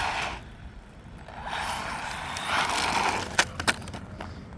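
An Arrma Mojave Grom brushless RC car runs nearby with a steady whirring motor and tire rumble over the ground, rising in intensity, then two sharp knocks as it bumps or lands near the end.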